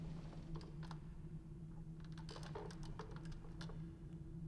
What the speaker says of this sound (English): Hearing some chittering, some clicking sounds.